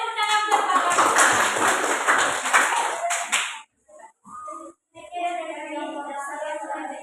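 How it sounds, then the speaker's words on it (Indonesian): A crowd claps for about three and a half seconds, dense and loud, then fades out, followed by quieter tonal sounds. "Beri tepuk tangan buat Bapak."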